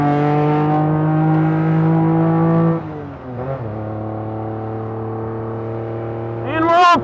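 A time attack kei truck runs at full throttle on a race track, its small engine droning loudly and steadily, dipping briefly at a gear change before rising again. A voice is heard under the engine.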